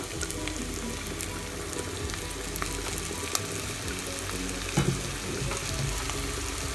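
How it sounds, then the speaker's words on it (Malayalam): Clams roasting in coconut oil crackle and sizzle steadily in a pan, with occasional louder scrapes and pops as they are stirred, close and continuous with no talk. "വെളിച്ചെണ്ണ ചേർത്ത ശേഷം നന്നായി ഇളക്കി യോജിപ്പിക്കുക"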